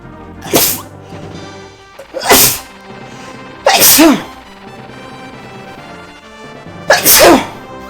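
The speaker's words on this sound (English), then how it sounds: "I'm gonna sneeze." A person sneezes four times in a row, each sneeze loud, sharp and close, with irregular pauses between them.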